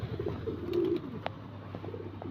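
Pigeons cooing softly nearby, a few low throaty coos over a quiet background, with faint clicks and rustles.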